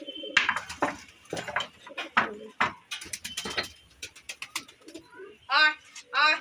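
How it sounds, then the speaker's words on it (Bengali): A pair of pigeons coos from a nearby rooftop in a few soft, rounded bursts near the end, after a person's voice calls out repeatedly. "ওই ছাদে দুটো পায়রা আছে, আসবে"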